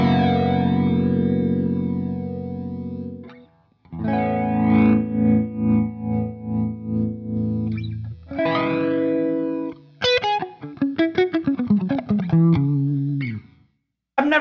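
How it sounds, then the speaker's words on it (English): Electric guitar runs through the flanger setting of a multi-effects pedal, with loud sustained chords and single notes carrying a sweeping, whooshing comb-filter swirl. The phrases are separated by brief pauses, and no one speaks. "You've got a flanger."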